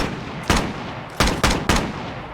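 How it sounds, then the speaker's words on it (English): Three to four loud rifle shots fired in VRChat, each a sharp blast with a short tail, the first alone and the rest closer together, with no talk. "pay attention to how this sounds when I fire it right here"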